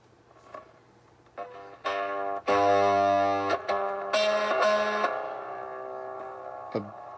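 Cigar box guitar with a rod pickup, chords strummed on a clean tone through a pre-amp, several bright harmonic-rich strums with sustained ringing, fairly loud and close, with short pauses between.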